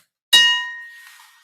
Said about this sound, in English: strike the bell